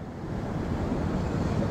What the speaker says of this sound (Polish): dźwięk, fale.